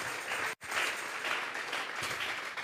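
A church congregation gives dense, sustained applause as an offering to God, with one brief gap near the start before the clapping carries on evenly.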